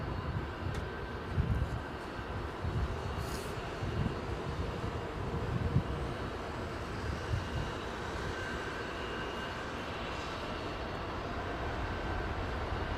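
Airliner with Pratt & Whitney engines at Heathrow, a steady broad distant engine roar and rumble holding for the whole stretch, moderately loud with slight swells, no talking.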